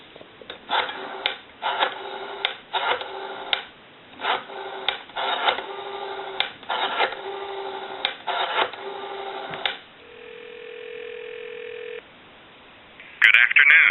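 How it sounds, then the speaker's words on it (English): A WE 302 rotary desk telephone gives a steady, even dial tone for about two seconds. Before it comes a run of clipped, rhythmic line bursts, and it ends with a short noisy blip. "I'll give you some dial tone."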